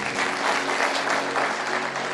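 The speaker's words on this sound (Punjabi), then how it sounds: "ਤਾਲੀ ਮਾਰੀਏ ਜ਼ੋਰ ਦੀ।" A congregation at a church sermon claps loudly and steadily, a dense wash of applause that holds at an even level throughout.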